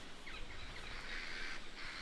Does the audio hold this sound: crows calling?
yes